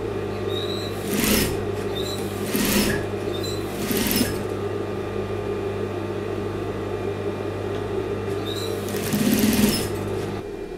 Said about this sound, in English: So I'm just going to top stitch it right away.